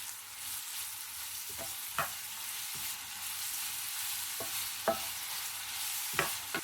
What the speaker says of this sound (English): Fry for 2 more minutes.